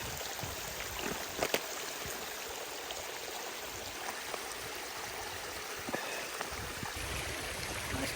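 Clean water flows in a stream at a wild camping spot in the Peak District, a steady broadband rush and gurgle with small splashes, close and continuous.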